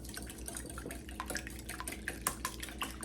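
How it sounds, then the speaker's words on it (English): Two eggs are whisked by hand in a mixing bowl, giving a quiet, quick run of light clicking, tapping strokes that continues steadily with no talking. "I'm going to whisk these eggs."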